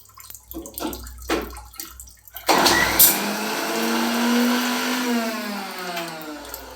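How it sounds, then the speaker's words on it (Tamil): A mixer grinder pulses in a short burst while grinding a thuvaiyal chutney, whirring loudly and rising to a steady high-pitched drone after a moment of quieter clatter. "இதை வந்து ரொம்ப அரைக்கக்கூடாது, ஒரு அடி அடிச்சாக்கணும்."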